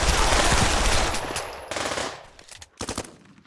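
Gunfire from the VR shooter game Pavlov: a loud, sustained automatic burst for almost two seconds, then a few shorter, sharp volleys separated by brief pauses.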